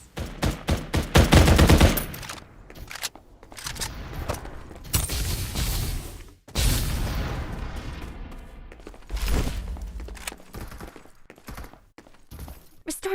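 Loud gunfire in the shooter game Farlight 84, heard as rapid automatic bursts and clusters of shots separated by brief pauses, with a few heavier booms.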